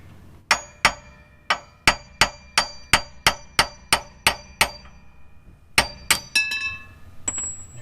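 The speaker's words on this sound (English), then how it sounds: "just hammer it straight through the back of this piece here" A steady run of sharp metallic hammer strikes driving a broken wheel stud out of a 2006 Toyota Sienna hub, about a dozen evenly paced blows, a short pause, then a few more quick clanging hits close by.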